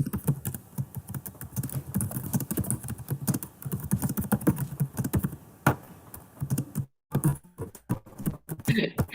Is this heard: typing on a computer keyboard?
yes